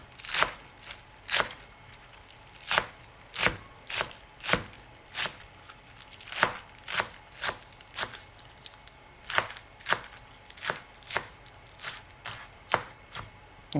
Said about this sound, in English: Green onions, you're just going to chop these coarsely